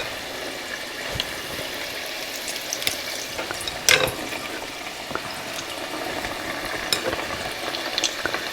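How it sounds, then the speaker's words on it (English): Hushpuppies frying in a pot of hot oil, a steady soft bubbling sizzle with a few sharper crackles and pops scattered through, heard close and alone. "this is actually the second pot full of Hushpuppies that I'm cooking right now"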